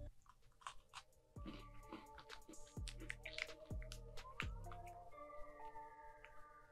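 Crisp bites and crunchy chewing on an Oreo Coca-Cola flavored sandwich cookie, close to the mic, several distinct crunches spaced a second or so apart with moist chewing between, no talking.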